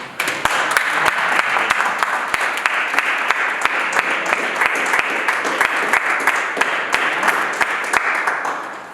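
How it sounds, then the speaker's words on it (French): Steady audience applause at a local election debate in Fribourg, a dense, sustained patter of many hands clapping with a few sharp individual claps standing out throughout. "Et donc, applaudissons-nous pour être déjà présents ici."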